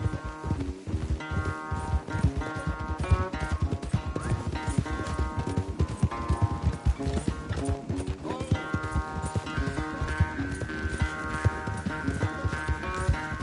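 Galloping horse hooves from Red Dead Redemption 2 during a horse race, a steady rapid clip-clop under a dense game music score, with voices talking over it.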